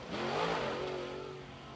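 An outlaw late model race car on a qualifying lap at Sumter Speedway roars past, its engine note swelling and then trailing off as it moves away, loud and fairly close.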